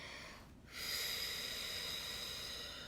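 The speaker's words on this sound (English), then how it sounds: "let's blow out" Slow, steady exhale during a guided breathing exercise, a soft airy rush that starts after a brief pause and continues evenly to the end, close and fairly quiet.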